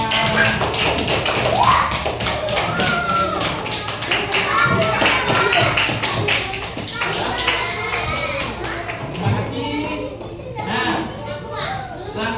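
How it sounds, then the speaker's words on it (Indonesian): A classroom of children claps in a rapid, uneven patter that runs throughout, mixed with lively children's chatter and voices. "Tepuk tangan semuanya"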